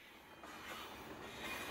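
A train approaches along the tracks, a faint, distant rumble that grows steadily louder over a couple of seconds, with no voices.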